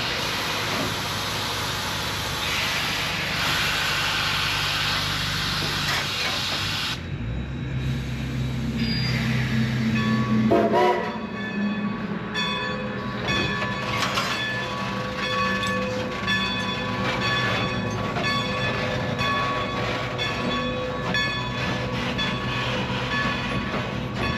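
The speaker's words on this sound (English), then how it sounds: "They're disconnecting the engine and then it's going to go to the other side of the train" A locomotive uncoupling from its train at Strasburg Railroad in Lancaster County, Pennsylvania, rumbles and hisses nearby, with metallic clanks and squeals partway through, then a steady idling engine drone.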